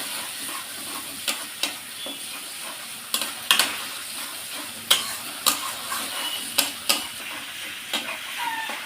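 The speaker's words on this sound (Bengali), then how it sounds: "দিয়ে মশলাটা একটু কষিয়ে নেব।" Spice paste with chilli powder and salt stir-fried in a pan for a Bengali rohu fish dish, with a steady sizzle under sharp, irregular scraping clicks from the spatula, fairly close and moderately loud.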